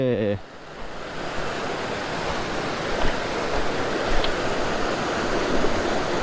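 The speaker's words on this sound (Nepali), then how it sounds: "call call call call call दामी पानी बगिरहेछ" Steady rushing water fills the whole clip, a broad continuous flow like a clear stream, after a short burst of voice at the very start.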